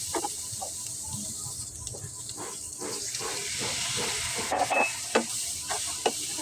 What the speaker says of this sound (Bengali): আমি আদা, রসুন, হলুদ, মরিচ, লবণ, ধনিয়া দিয়ে একসাথে মশলাটা কষিয়ে নিচ্ছি